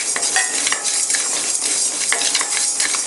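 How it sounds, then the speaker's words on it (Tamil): Whole coriander seeds, cumin, black pepper and fenugreek being dry roasted in a pan and stirred continuously, with steady scraping and light clinking of a spoon against metal, fairly close and without talk. "ஒரு 1 நிமிஷம் 2 நிமிஷம் கைவிடாமல் வறுக்கணும்"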